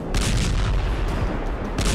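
Explosions from fighter jet missile strikes on military sites, a continuous heavy rumbling roar with repeated booming bursts rolling over one another, loud and close.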